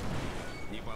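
Destroyer guns in World of Warships fire armor-piercing shells, heard as a short burst of heavy booming gunfire with a voice talking over it.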